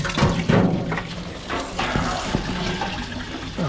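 Coolant water drains from an engine passage on an '87 Suburban, a close splashing, gurgling pour with irregular drips and trickles throughout.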